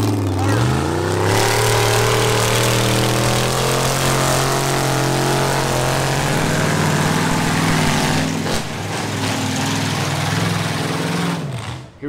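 A Chevy square body truck fitted with a 5.3 V8 runs with a steady, loud engine drone that rises in pitch early on, then holds a rough, throaty idle-like rumble before cutting away near the end.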